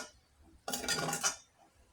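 A metal spoon scrapes and clinks against a cooking pan while lifting pieces of fried chicken: one short, bright burst of scraping after a quiet start, then fading back to near silence.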